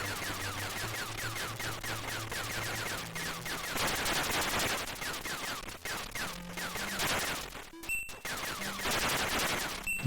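Rapid bursts of ship gunfire from the Atari ST shoot-'em-up Zenon II, chattering repeatedly over a droning electronic soundtrack, with brief tonal blips near the end.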